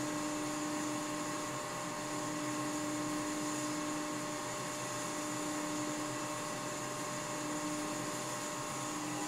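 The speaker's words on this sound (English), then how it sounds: "I'm turning it really slowly to spring a small leak from the main chamber to the vacuum pump" A vacuum pump on a Leybold Turbovac 150 turbomolecular pump setup runs while a valve is opened slowly to bleed a small leak from the main chamber, giving a steady, even mechanical hum with high tonal whine and faint hiss throughout.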